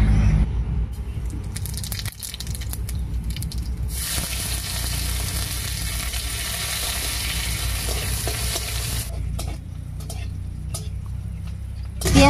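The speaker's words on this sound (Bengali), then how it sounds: "তেল গরম হয়ে গেছে, এবারে গোটা জিরা আর পেঁয়াজ কুচি দিয়ে ফোড়ন দেব।" Whole cumin and chopped onion hit hot mustard oil and burst into a loud, hissing sizzle that stays intense for several seconds, then settles into steadier frying with stirring clicks.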